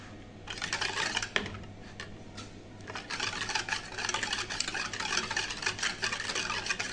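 Burhani, a spiced yogurt drink mixture, being beaten steadily for several minutes, giving a continuous busy whisking and sloshing texture with light rapid clicks, fairly close and alone without talk.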